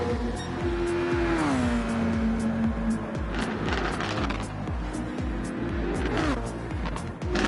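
Race cars at Brands Hatch in a racing video game roar past with whining engines rising and falling, gear changes and brief tyre squeal, loud and continuous throughout.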